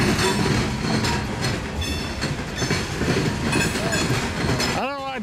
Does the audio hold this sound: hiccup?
no